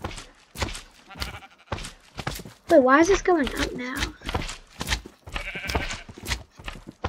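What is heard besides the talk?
sheep bleating, from a video game (Minecraft)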